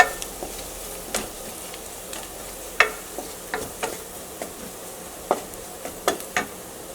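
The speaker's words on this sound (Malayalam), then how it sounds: "ഇനി മല്ലിപ്പൊടി നന്നായിട്ടൊന്ന് മൊരിയട്ടെ." Coriander powder roasts in a pan with a soft, low sizzle, punctuated by irregular sharp clicks and scrapes from a spoon stirring against the metal.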